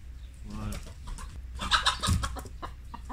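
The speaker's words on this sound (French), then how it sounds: "ramène les poules au poulailler" Chickens cluck and squawk close by in short bursts as they are driven back to the henhouse in a garden, mixed with a person talking nearby in French.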